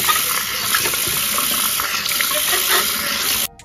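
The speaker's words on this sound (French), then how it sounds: "Et là, je rince." Tap water runs steadily into a sink while something is rinsed during eco-friendly spring cleaning. The close, continuous splashing rush lasts throughout and then cuts off abruptly at the very end.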